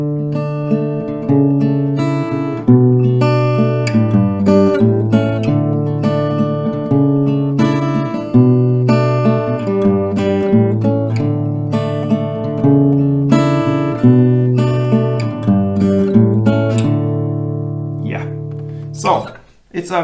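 Acoustic guitar strums a song's chords in a steady rhythmic pattern, close and clear, continuous for about twenty seconds with a bright string squeak near the end.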